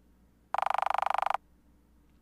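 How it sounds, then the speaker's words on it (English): A frog croak from a Friday Night Funkin video game mod comes as a fast, evenly pulsed rattle of about sixteen beats in under a second. It is loud and alone against a quiet background. "Is it just a frog? Please tell me it's just a little frog."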